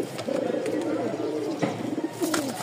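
Rajshahi pigeons, black-tailed birds kept for sale, coo in close, rhythmic throaty bursts with a few sharp clicks and rustles mixed in.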